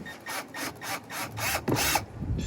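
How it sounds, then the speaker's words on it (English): A drill bores a small hole in the cab of an RV, giving a string of quick grinding, rasping pulses, close and fairly loud, ending in a short rougher burst. "drill"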